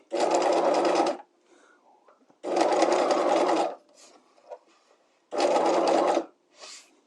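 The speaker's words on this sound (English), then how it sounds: "as we sew this, we want to make sure that that edge of the presser foot is up against that" A sewing machine runs in three steady bursts of about a second each while sewing a piped seam, with quiet pauses and faint handling noises between runs.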